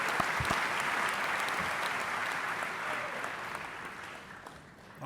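Sustained applause from a large audience at a Basketball Hall of Fame enshrinement ceremony honoring Alonzo Mourning, a dense steady wash of clapping that holds for several seconds before gradually thinning out.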